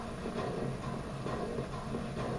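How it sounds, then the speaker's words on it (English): Steady rumbling mechanical drone from bridge machinery in Silent Hill, a constant distant grinding hum with faint rhythmic ticking, continuous and unchanging throughout. "Perhaps that's the machinery of the bridge"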